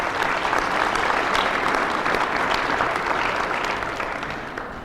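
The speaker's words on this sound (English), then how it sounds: "Let's give them a round of applause." Audience applause fills a community college gym at a grand opening ceremony, steady dense clapping throughout that fades slightly toward the end.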